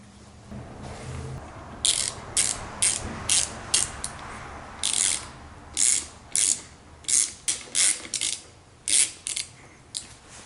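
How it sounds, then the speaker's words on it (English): A tap with a little oil on it is turned by hand into a drilled hole for a Tamiya Clodbuster body mount. It gives a series of sharp, close ratcheting clicks in short irregular bursts, with pauses between turns. "Now it's time to tap it out."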